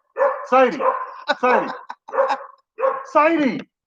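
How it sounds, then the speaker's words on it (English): Several dogs bark and yip in rapid, overlapping bursts close by, with short pauses between volleys. "Dogs, listen to me, Sadie."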